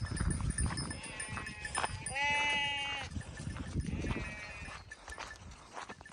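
Sheep bleat in a lively flock, several wavering calls overlapping close by, amid shuffling farmyard noise and a voice speaking in the background.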